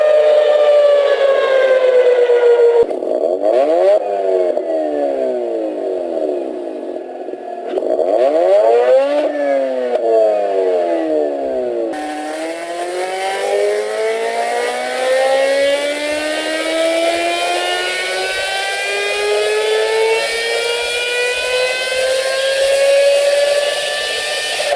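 Mazda rotary-engine sports car, an RX-7 or RX-8, revving hard with a high, buzzing, motorcycle-like wail: repeated rising and falling sweeps in the first half, then a long sustained climb as it accelerates, loud and close with no talking.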